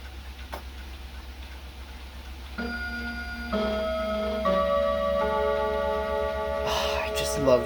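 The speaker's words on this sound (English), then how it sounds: "My Black Forest Art Deco Westminster Chime mantle clock. It's actually about to go here, which you'll hear soon." A Black Forest Art Deco mantel clock ticks softly, then begins its Westminster chime, ringing successive clear bell-like tones that build and sustain, with a faint whisper-like voice early on.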